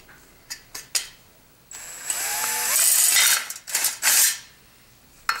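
A 5/32 drill bit bores a clearance hole through a coolant screen for a Tormach mill, giving a steady high whirring grind for about two seconds amid scattered clinks and taps of handling metal parts.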